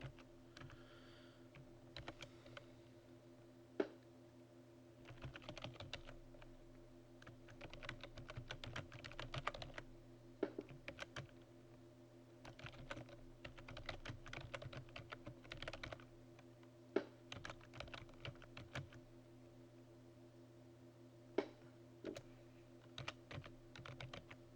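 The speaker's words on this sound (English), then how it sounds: "now I've typed the information in the footnote" Steady computer keyboard typing runs throughout, quiet and close, with irregular bursts of keystrokes and occasional sharper clacks over a faint constant hum.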